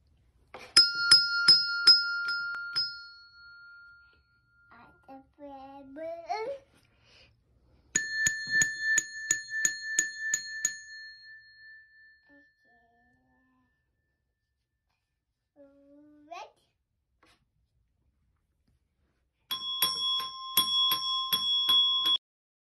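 Colored pat bells struck one at a time, clear ringing tones that sustain and fade, heard in several bursts with quiet pauses and brief soft speech between them.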